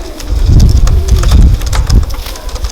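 Bowden strain racing pigeons coo in deep, throaty rolls that repeat and overlap close by, over a rough, noisy background with no one talking.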